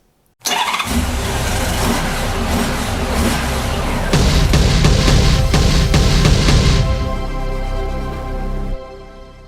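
A motorcycle engine turns over and catches at once after sitting all winter with its oil drained down, then runs steadily and loudly with a rough idle, building briefly before cutting off near the end.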